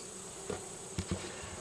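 Honeybees buzz steadily around an open hive during a beekeeper's inspection, a continuous faint drone with a few soft thumps and taps, no talk.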